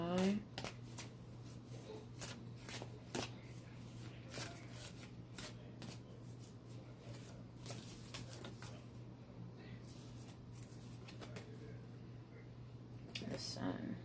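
Daughters of the Moon tarot cards being shuffled by hand: repeated soft riffling and patting bursts for about fourteen seconds, fairly quiet and close, over a steady low hum with faint room noise.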